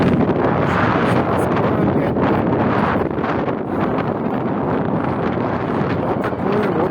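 Strong wind buffets the microphone beside a lake at Krasnoperekopsk, a dense, continuous roaring rumble with gusty surges that stays loud for the whole stretch, with no voices over it.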